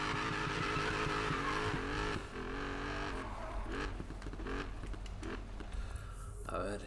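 Dodge Challenger getaway car engine in the video game Need for Speed Payback, loud sustained revving with shifting pitch and gear changes, tire noise and game effects, under a voice talking.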